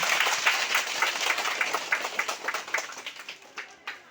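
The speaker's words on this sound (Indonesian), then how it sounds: "Luar biasa, tepuk tangan." A crowd at a hat-pinning ceremony for a village head applauds, a burst of brisk clapping that gradually thins and fades over a few seconds.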